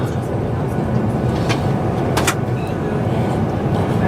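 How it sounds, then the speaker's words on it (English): An Arriva Trains Wales train heading into Wilmslow station, a steady loud rumbling drone of rolling stock with a few sharp higher squeals, heard from on board under a voice talking. "Riva Trains Wales service heading in."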